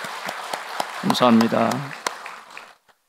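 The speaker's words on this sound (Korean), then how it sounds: "우리 귀한 찬양대 큰 박수로 한번 축복해 주시고 격려해 주시면 감사하겠습니다" A church congregation claps for its choir during Sunday worship, with sharp scattered claps at first. Someone speaks briefly over the applause before it thins out and stops.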